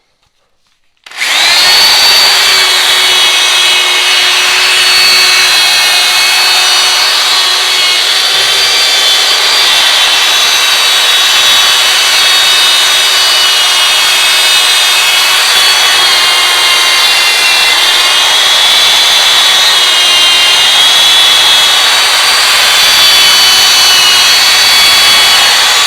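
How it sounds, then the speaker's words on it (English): A drill spinning a buffing wheel polishes a Suzuki RM 125 motorcycle engine, starting abruptly and then holding a steady, loud, high-pitched whine with rubbing friction for over twenty seconds without a break. "My next step, drill and a buffing wheel,"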